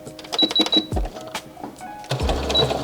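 A sewing machine with a 3.5 stitch length stitches a dress seam close to a fold, a close whirring run of stitches that pauses and restarts, with no talking.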